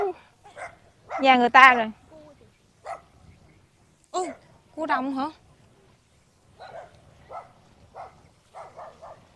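Dogs bark in short, sharp bursts while scuffling in a rice field, two loud clusters of close barking separated by quieter moments, with people talking nearby.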